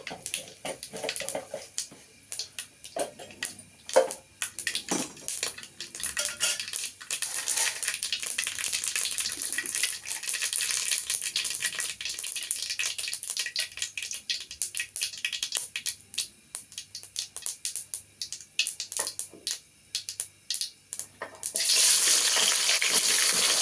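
A spoonful of mustard seeds frying in hot oil: dense crackling and spattering pops over a continuous hiss, swelling into a louder, steadier sizzle near the end.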